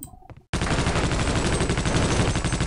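Machine gun fire in Half-Life: Opposing Force: after a few brief sounds, a sustained, loud, rapid automatic burst of evenly spaced shots continues to the end.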